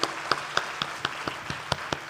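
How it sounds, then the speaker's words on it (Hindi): Sparse, scattered claps in an audience hall, a handful of separate sharp hand claps spaced irregularly over two seconds, fairly quiet and without talk. "तालियां इनके लिए, इनके कामों के लिए"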